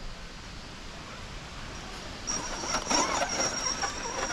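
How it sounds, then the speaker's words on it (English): An RC crawler's steering servo stalls out, first as quiet background hiss, then as a thin high strained whine with buzzy bursts for the last two seconds. "This servo's stalling out"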